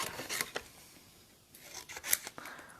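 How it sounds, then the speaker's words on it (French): Quiet, close Stampin' Up scissors snipping out paper shapes in a few short bursts, with soft rustling between the cuts. "on va les détourer avec nos super ciseaux Stampin' Up"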